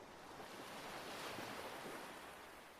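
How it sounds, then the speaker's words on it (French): Waves and surf washing onto a beach, with a steady broadband roar that swells slightly and fades, heard faintly and without any voices. "Tu entends déjà le bruit de cet endroit t'appeler, les vagues, le ressac"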